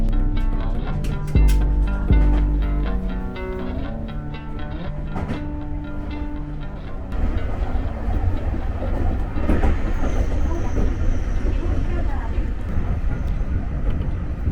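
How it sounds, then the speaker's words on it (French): A train on the Olympic line in Tokyo rumbles past, with a loud steady roar, tonal hum and rattling that continues throughout, while a voice talks over it early on. "These trains here for the Olympic line."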